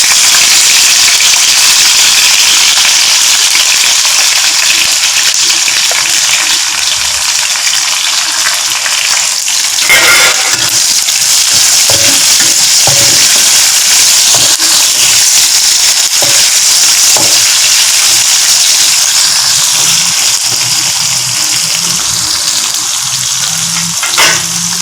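Onion frying hard in a pan for mixed vegetable kootu, a loud continuous crackling sizzle with scattered pops and occasional stirring clatter, close and sustained throughout, with no talking.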